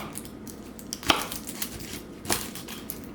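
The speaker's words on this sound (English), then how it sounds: "Let's cut it down lengthwise." A kitchen knife slices lengthwise down through an onion on a cutting board, giving two distinct, close chops amid quiet handling sounds.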